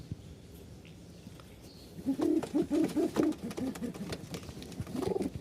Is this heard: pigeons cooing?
yes